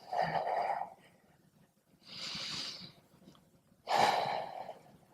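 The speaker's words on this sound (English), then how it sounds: "Breathe deeply." Three slow, deep breaths taken during a lying-down yoga pose, each a soft, close airy rush separated by quiet pauses.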